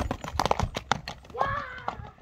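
A long-legged horse's hooves clip-clopping nearby in a quick irregular series of sharp knocks, with people talking over them.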